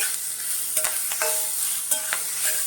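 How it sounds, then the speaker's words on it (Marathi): Raw mango rice sautés in a pan on a low flame, giving a steady soft sizzle with several sharp clinks and scrapes of a spatula against the metal. "एक मिनिट आपण आता फक्त परतून घेऊया बारीक गॅस करून परतून घेऊया"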